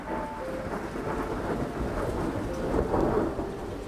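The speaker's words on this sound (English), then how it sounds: "So it's now hailing." A hailstorm with thunder heard through an open window, a steady dense patter of falling ice under a low rumble that swells briefly near the end.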